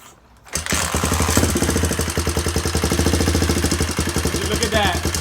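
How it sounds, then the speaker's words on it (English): A dirt bike that had sat for months fires up on the first crank after a brief quiet moment, then settles into a loud, steady, throbbing idle with a fast pulsing beat. "That was our first crank. She started."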